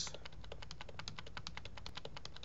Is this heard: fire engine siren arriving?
no